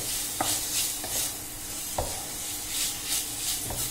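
Chicken pieces frying in a pan for noodles, a continuous sizzle broken by periodic scraping stirs of a spatula roughly every second.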